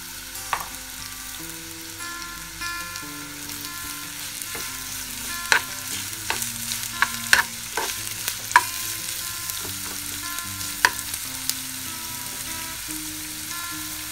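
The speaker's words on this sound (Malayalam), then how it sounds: "ഇതുപോലെ ഒന്ന് നന്നായി വഴറ്റിയെടുത്തതിന് ശേഷം" Onions sautéing in ghee in a pan for sweet ghee rice, a soft continuous sizzle with repeated sharp spatula taps and scrapes as they are stirred.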